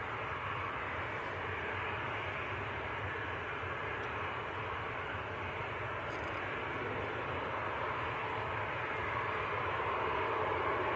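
A departing airliner bound for Fuerteventura in the Canary Islands rumbles at Manchester Airport, a steady, unbroken broadband jet roar heard at moderate distance and holding an even level throughout.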